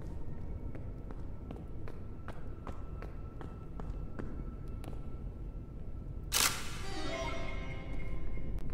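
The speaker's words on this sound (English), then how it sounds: "Oh, I heard footsteps right now." Footsteps in the horror video game Forewarned come as a regular series of faint, sharp taps, followed by a sudden louder clatter with a ringing tail.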